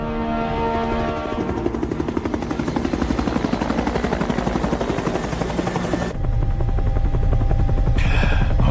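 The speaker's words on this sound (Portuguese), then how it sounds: "Olha, eu só espero que este helicóptero seja mais seguro que o último." A Cold War-era helicopter in flight throbs with loud, rapid rotor chop, then shifts to a steadier, brighter engine roar partway through, close and dominant with no voices.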